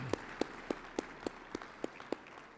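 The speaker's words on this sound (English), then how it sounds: "one more round of applause, please, for our title sponsors" Faint, sparse applause from a small audience at Tucson's 2021 State of the City event, about nine evenly spaced sharp claps heard at a distance over quiet room tone.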